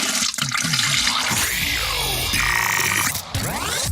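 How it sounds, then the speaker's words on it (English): A toilet flushes with a loud rush and gurgle of water that swirls and drains over several seconds, close and clear with no talk. "hearing the sound of the toilet flush"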